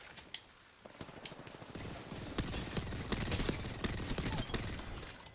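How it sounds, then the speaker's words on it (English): Rapid gunfire in the video game Apex Legends crackles in dense bursts, with sharp shots and clattering impacts piling up over a few seconds. "Oh, they shot from the left."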